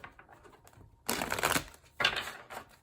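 A deck of tarot cards is riffled and shuffled in two quick, crisp bursts, with softer card handling and taps between them, close and without talk.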